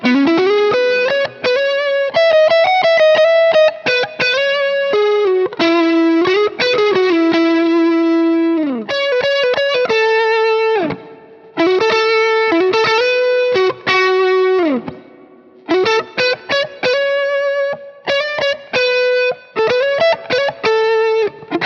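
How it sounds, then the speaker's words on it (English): Overdriven electric guitar lead through a Two Rock Jet 35 amp with single-coil pickups and a Tube Screamer overdrive, playing loud sustained and bending melodic phrases with short gaps between runs, no voice. "this gets you a much more noticeably overdriven lead sound"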